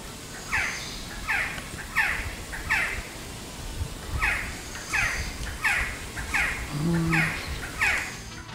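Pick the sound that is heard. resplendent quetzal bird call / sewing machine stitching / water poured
resplendent quetzal bird call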